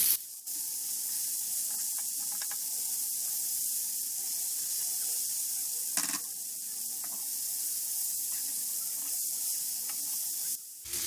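Masala bhindi (okra) fries on a tawa with a steady, loud sizzling hiss that runs unbroken throughout, marked by a couple of brief soft knocks.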